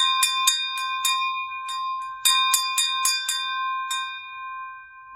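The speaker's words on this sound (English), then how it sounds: "when you ring a bell like this one I have by my bed" A small hand bell kept at a bedside rings loud and close in quick repeated strikes, a cluster of bright rings, a short pause, then another flurry, each tone ringing on between shakes with no talk.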